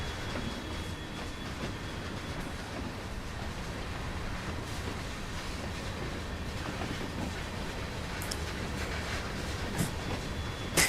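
A train running in Train Sim World 2 on the Ruhr-Sieg Nord route, a steady rumble of wheels and rail noise with faint clicks and a brief squeal near the end, no talk.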